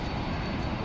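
A Boeing 767-400 airliner's engines roar in a dense, steady broadband rush, loud and continuous with no talk over it.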